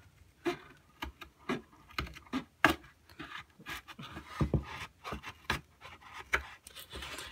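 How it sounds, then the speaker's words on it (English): Thick serrated scissors snip through material in a quiet room, a series of short crisp cuts in uneven rhythm, close and fairly soft, with no talking. "I just went through it with these scissors, and these scissors are nice and thick"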